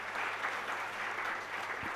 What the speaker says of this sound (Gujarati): આપણે એમનું સ્વાગત કરીએ તાળીઓના ગળાગાળાથી